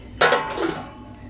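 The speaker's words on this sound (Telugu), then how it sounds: "ప్లేట్ మూత వేస్తున్నాను" A plate lid set down over a pan of simmering okra pulusu gives one short metallic clatter with a brief ringing tail, close and fairly loud, followed by quiet.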